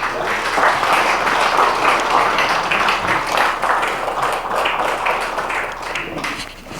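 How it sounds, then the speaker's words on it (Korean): Applause from an audience at a lecture fills the room with dense, steady clapping that holds loud throughout, easing slightly near the end. "우리 뜨거운 박수를 좀 하네요."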